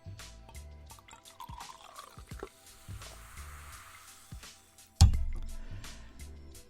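Alcohol-free champagne is poured with soft drips and gurgles, followed near the end by a louder fizzing rush as the bubbles rise, all close and quiet.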